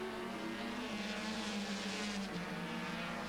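A 130-horsepower JPS Norton racing motorcycle power-slides around Mallory Park circuit at about 120 mph, a sustained high-revving engine drone with shifting pitch, heard at a distance and fairly faint.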